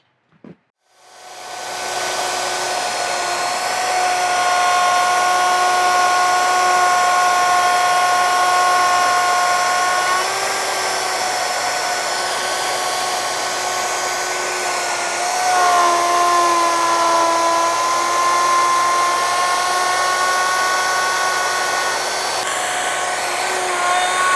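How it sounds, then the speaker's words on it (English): A power tool with a centered bit cuts a mortise into a wooden bed post, a steady high whine running loud and continuous for over twenty seconds after a brief click, its pitch dipping slightly under load at times. "I've gone ahead and centered the bit, so I'll add some stops and go ahead and cut this first mortise"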